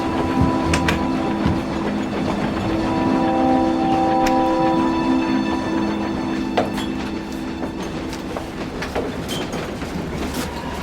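A passenger train runs steadily along the rails, with continuous close rumble, rhythmic clickety-clack of the wheels and faint squeals, loud and unbroken with no voices.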